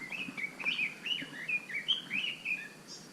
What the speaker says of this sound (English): it was a little bird